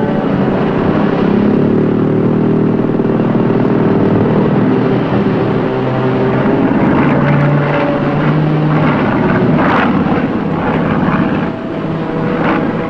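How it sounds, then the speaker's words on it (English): A steady, droning aircraft engine fills the whole stretch, loud and continuous, with a low propeller-like hum and no voices. "Control, there's a plane overhead."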